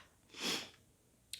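A single soft, breathy sneeze from a person indoors, brief and fairly quiet, followed by a small sniff.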